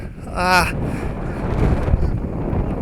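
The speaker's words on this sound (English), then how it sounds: "It is way too windy now." Wind buffets the microphone with a steady low rumble throughout, and a brief tonal burst rises early before the gusts continue.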